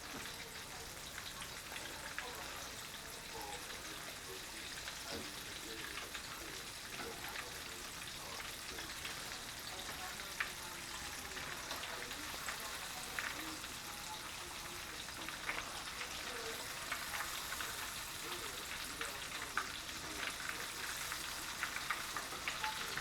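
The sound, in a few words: food frying in oil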